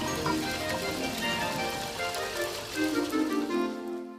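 Rainwater pours down a drainpipe into a drain, a constant rushing patter close by that thins out at the very end, with no voices.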